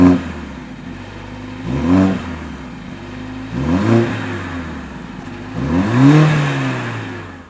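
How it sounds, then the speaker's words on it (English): A Mercedes-AMG A 45 S 4Matic+ with a 2-liter turbocharged petrol engine revs three times up close. Each blip rises in pitch and falls away again, with a faint mechanical clatter underneath. "this 2-liter petrol engine with its turbocharger definitely puts out a lot of horsepower, but doesn't manage to sound as great as a larger engine"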